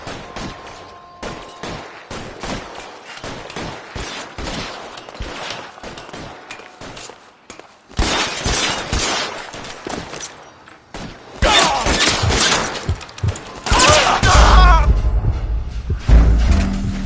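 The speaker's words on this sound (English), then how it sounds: "Shots fired. Officer needs help." Video game L.A. Noire gunfight: repeated loud gunshots and bursts of fire with thuds and shattering, building to heavier, denser volleys toward the end, with game voices mixed in.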